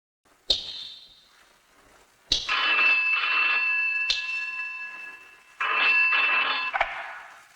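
A telephone rings in a police office, two long bursts of bright, trilling bell tones separated by a short pause, loud and close, with no voices over it.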